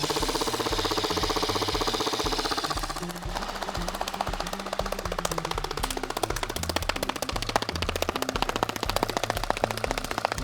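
A Specna Arms SA249 polymer airsoft light machine gun fires on a LiPo battery in a sustained full-auto burst, a rapid, even mechanical rattle that runs loud and close for most of the clip.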